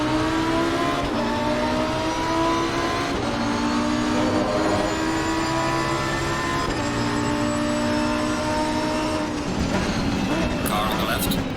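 Race cars accelerating off the start line at Kyalami in the Assetto Corsa racing game, a dense layered engine roar with rising revs and gear changes sustained loudly throughout, with a voice talking over it.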